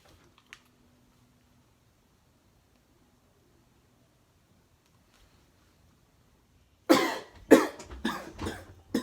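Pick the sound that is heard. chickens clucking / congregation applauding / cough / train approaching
cough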